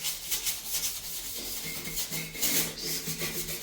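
Soap scum being scrubbed off a bathroom surface during a whole-house clean, heard as brisk, rhythmic rubbing strokes at close range, a coarse swishing friction repeating several times a second with no talking.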